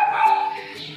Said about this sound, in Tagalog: Ang ingay ng aso dito.